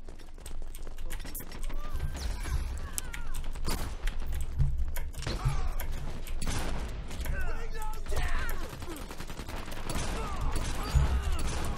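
Gunfire in the online shooter game Dirty Bomb, rapid bursts of sharp shots scattered through, mixed under frequent speech and game sounds.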